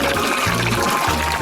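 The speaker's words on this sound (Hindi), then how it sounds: "अच्छे से पानी डाला" Water pours steadily onto garden plants, a continuous close splashing and trickling wash with a low gurgling undertone and no break.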